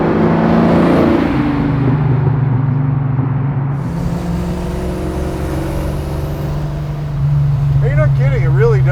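Custom pro-touring Pontiac GTO engine droning loud and close while driving, a steady low rumble with a shifting pitch as it corners on ramps, and voices talking over it near the end.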